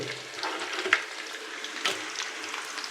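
A ladle stirs food frying in a pan, making a faint, steady sizzle with a couple of brief scrapes and clinks of the ladle against the pan.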